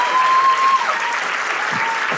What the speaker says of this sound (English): Can we give him a round of applause for being here?